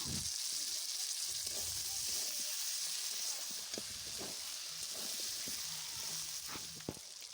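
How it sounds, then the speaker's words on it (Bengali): Tomatoes fry with garlic paste, ginger paste and spices in a wok for khichdi, giving a steady, close sizzle with scattered clicks and scrapes from stirring, and no voices. "টমেটোটা ভাজা হয়ে গেছে।"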